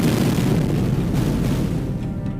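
A huge, sustained explosion roars dense and loud with no gaps, a dramatized bombing blast that rumbles on without a clear decay.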